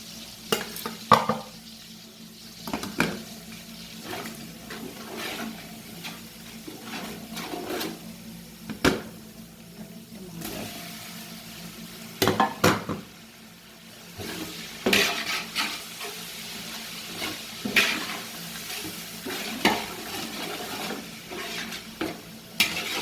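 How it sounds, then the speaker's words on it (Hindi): Dry spice masala roasts in a pot for mutton paya, with repeated spoon scrapes and clanks against the pot over a continuous light sizzle, close and fairly loud. "मसाला थोड़ा सा भून लेंगे"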